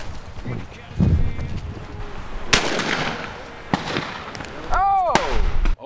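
Shotgun blasts while hunting white-winged doves outdoors, several sharp loud reports spaced a second or more apart, with a person talking and birds or animal calls in the background.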